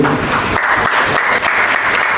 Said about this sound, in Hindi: तालियां बजानी होगा, बजा देंगे।